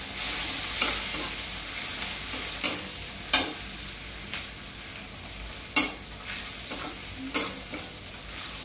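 Chopped onion and fresh coriander sauté in a pan under a constant soft sizzle, broken by several sharp spatula scrapes and stirring clacks at irregular intervals.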